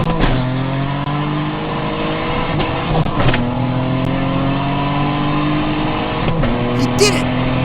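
A Ferrari sports car drives past at close range, engine droning with rising pitch sweeps as it accelerates, and a few sharp transients along the way.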